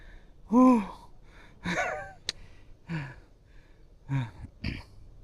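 A person pants heavily after climbing up to Wat Khiri Wong in Phetchaburi, with a series of sharp gasping breaths spaced about a second apart, close and fairly quiet.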